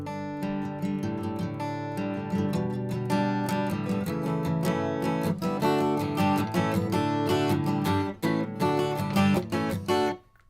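Guitar playing the verse leading into the pre-chorus of a song, full strummed chords in steady rhythm with a brief break near the end, close and loud, no voices.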